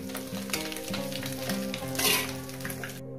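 Small kachki fish sizzle and crackle in hot oil in a pan, a steady close frying hiss with stirring, alone without talk.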